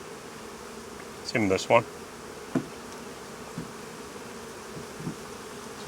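Honey bees buzzing faintly around an open hive frame with capped honey stores, a steady low hum under a man's brief spoken remark.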